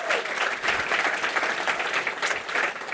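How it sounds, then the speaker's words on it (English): Audience applause at a panel discussion, a dense steady clatter of many hands clapping together at fairly close range, sustained evenly for three seconds with no pauses. "we could all join me in giving her a huge round of applause"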